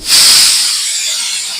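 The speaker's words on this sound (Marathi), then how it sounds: "दोन शिट्ट्या घ्यायच्या बारीक गॅसवर" A pressure cooker releases a loud hiss of steam through its whistle, sudden at first, then holding steadily close by while rice and chicken cook.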